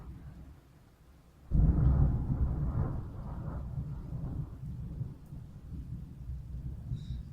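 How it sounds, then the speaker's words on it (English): A full-blown thunderstorm outside: a sudden loud thunderclap breaks a quiet start, then a long rolling rumble mixes with steady heavy rain, with no talking. "Basically, it's a full-blown storm outside. So thunder, lightning,"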